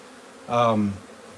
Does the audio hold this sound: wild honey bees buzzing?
yes